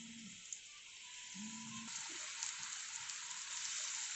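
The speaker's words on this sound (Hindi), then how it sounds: "हम पनीर के पीसेस डाल देंगे और इसे फ्राई कर लेंगे" Paneer pieces frying in hot oil in a kadai give a steady, close hiss and crackle that holds throughout, with a few faint clinks and soft knocks near the start.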